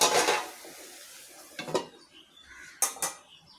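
Metal lid clattering onto a cooking pot of bottle gourd, a loud clank at the start followed by two more short knocks of metal on metal, close by with no talk.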